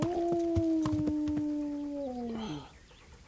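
A dog in the medieval role-playing game Kingdom Come: Deliverance lets out a single sustained howl that slowly slides downward and fades, with faint clicks and taps in the background.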